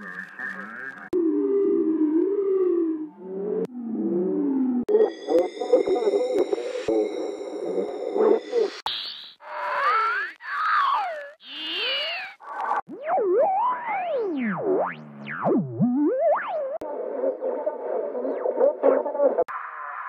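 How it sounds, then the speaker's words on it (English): Synthetic radio textures and tones from a sound effects library: sweeping warbles, pulsed sidetone beeps, detuned tuning-like glides and buzzy static bursts, heard one after another, clear and close, with no voices. "we have some radio textures and tones"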